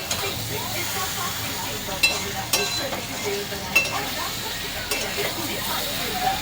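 Spices being stir-fried in a pan, a steady hissing sizzle with periodic clinks of a spatula against the metal, close and fairly constant.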